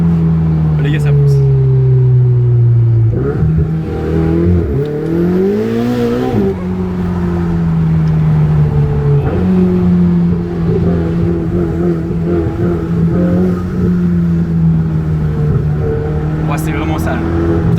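A Ferrari 488 GTB engine pulls loudly and steadily close by, its pitch rising and dipping across shifts, with excited voices talking over it throughout.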